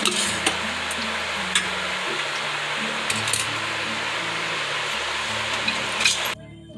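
Steady, close sizzling hiss of oil heating on a hot griddle pan, with occasional clinks and a low humming drone underneath, ending abruptly.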